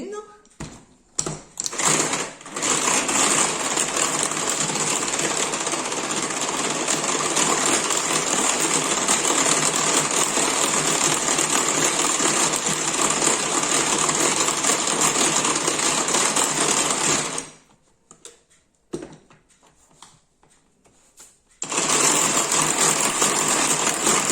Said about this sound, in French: Donc je vais émulsionner un petit peu les blancs d'œufs dans le speedy en vitesse 1